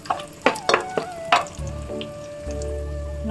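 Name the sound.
raisins frying in a pan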